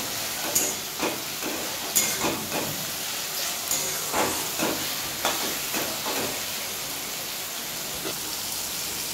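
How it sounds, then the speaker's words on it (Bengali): Onion and tomato fry in oil for a Kolkata-style chicken kosha, giving a steady, close crackling sizzle with faint clicks of stirring throughout. "দেখুন আমার পেঁয়াজ আর টমেটোটা ভালো করে ভাজা হয়ে গেছে।"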